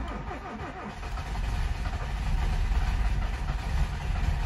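A Japanese car engine, stored unused for a long time, cranks and catches, then settles into a rough, rumbling idle that grows steadier and louder, close by with no talking.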